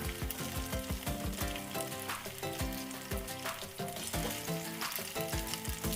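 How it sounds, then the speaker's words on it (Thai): Oyster and batter pancake (hoi tod) frying in hot oil, a loud continuous sizzle and crackle with frequent spatter pops throughout, close up and with no voices. "ก็จะทอดต่อไปเรื่อยๆนะคะ ให้เขากรอบนอก นุ่มในแล้วก็สีเหลืองสวยค่ะ"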